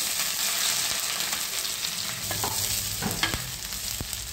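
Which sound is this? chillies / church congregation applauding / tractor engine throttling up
chillies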